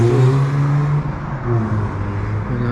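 A car revs and drives around outside a shop with a Christmas window display, its engine steady and fairly close throughout, rising and falling with no talking over it.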